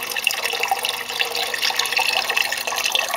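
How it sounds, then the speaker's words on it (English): Water splashes and bubbles steadily in a home aquaponic system, aerating the tank with a continuous, close, hissing wash of sound and no talk. "There's all the oxygen going into the water."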